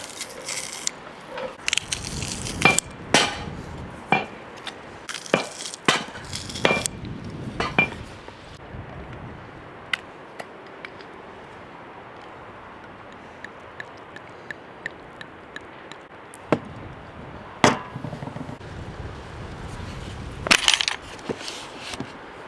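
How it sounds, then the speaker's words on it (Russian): Intermittent crunching and squishing from a garlic press crushing garlic cloves, several sharp bursts separated by quiet stretches, with light kitchen clinks nearby. "Нарезать чеснок что-то мне сегодня неохота, друзья. Я его просто выдавлю."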